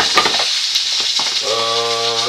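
Fish fries on one side in a hot pan, a loud, continuous close sizzle that holds steady throughout, with a faint tonal hum rising toward the end.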